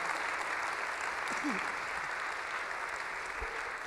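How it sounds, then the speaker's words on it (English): A crowd at a women's mayoral forum in Chicago applauds steadily, a dense wash of clapping that holds at an even level from start to finish. "let's have a round of applause."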